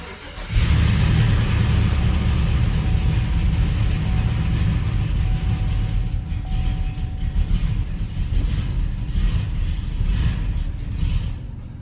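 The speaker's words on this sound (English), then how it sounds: "it's gonna be the first startup of the truck we just finished up" A truck's freshly built LS V8 with a big cam fires up for the first time and runs loud and rough, its lopey uneven idle broken by blips of revving.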